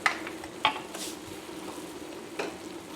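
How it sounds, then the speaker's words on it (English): Mushrooms sizzle steadily in a frying pan while a utensil stirs them, with a few sharp scrapes and clicks over the constant hiss. "Stir it around"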